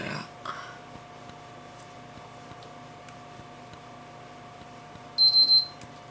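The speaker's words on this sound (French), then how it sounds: "C'est normal qu'on entend les deux bips." A close run of three quick electronic beeps from a PS3 console near the end, after quiet ticking and a faint steady hum.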